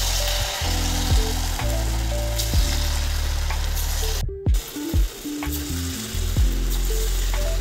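Sweet pumpkin bhaji fritters (kashi kohalache bonda) fry in hot oil with a steady, loud bubbling sizzle. Sharp clanks, scrapes and splashes cut in as a utensil moves through the pan, with a brief break in the middle.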